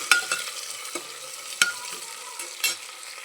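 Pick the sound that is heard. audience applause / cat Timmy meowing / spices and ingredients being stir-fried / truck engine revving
spices and ingredients being stir-fried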